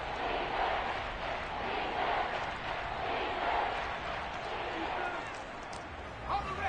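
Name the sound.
football stadium crowd cheering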